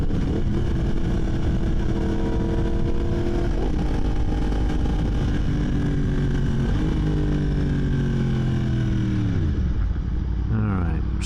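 A motorcycle ridden on twisty roads, its engine revving up through the gears with audible shifts, loud and close over steady wind rush.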